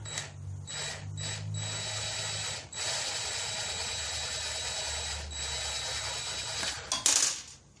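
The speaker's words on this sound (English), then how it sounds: "I set up a screw and the impact." Rapid mechanical rattling and ratcheting from an impact driver driving a screw on a 1971 Honda CT70, in several bursts with short pauses, ending in a louder sharp clatter.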